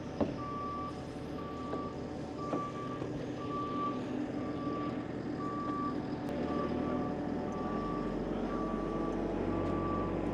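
A JCB moving steel on a building site sounds its reversing alarm, a regular series of clear beeps over a low diesel engine rumble, at moderate distance, with no talk.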